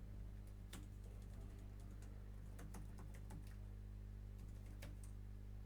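Code being typed on a computer keyboard: soft, irregular key clicks come in quick clusters over a steady low hum, fairly faint and close, with no voice.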